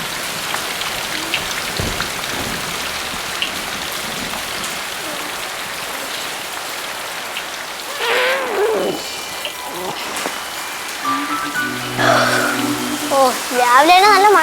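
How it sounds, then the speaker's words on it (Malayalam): Heavy morning rain pours steadily on surfaces close by, dense and continuous, with a few voices and brief sounds rising over it near the end. "രാവിലെ നല്ല മഴയാണല്ലോ"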